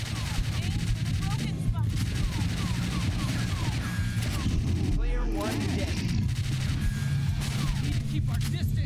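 Rapid gunfire from a House of the Dead Scarlet Dawn arcade cabinet, loud repeated bursts of shots running almost without pause, with crashes and game effects layered in.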